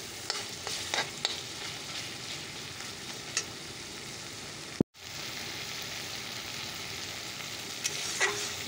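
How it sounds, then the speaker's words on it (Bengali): Spices with turmeric powder sautéing in hot oil give a steady close sizzle with a few stirring scrapes, and the sound cuts out abruptly for a moment partway through before resuming. "মশলাটা কষানো প্রায় হয়ে গেছে, দেখতে পাচ্ছি।"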